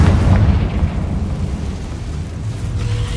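A Confringo explosive spell blast in Hogwarts Legacy: a loud, rumbling boom that swells at the start and rolls on as a sustained low roar for a few seconds, with no talking.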